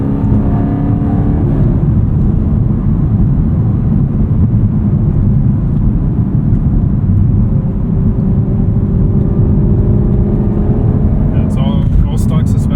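A modified 2022 Chevrolet Camaro SS 1LE V8 engine drones loudly and steadily throughout, a continuous low rumble with rising harmonics as it holds high revs, ending with a brief burst of higher-pitched noise.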